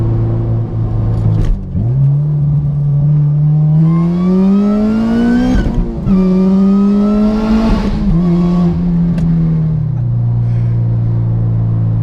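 A supercharged four-cylinder engine in a 2011 Honda Civic Si revs up and holds high, climbing in pitch twice before dropping back, loud and close, with no talking.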